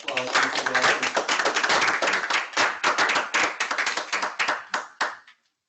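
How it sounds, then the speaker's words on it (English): Hand clapping from a group of estate planning students in a classroom or lecture setting, brisk and fairly close, fading out over several seconds. "Can we all get a round of applause?"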